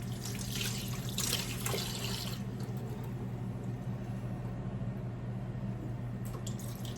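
Water runs steadily from a tap into a sink while a few dishes are washed, a constant close hiss with faint clinks and splashes near the start and no talking.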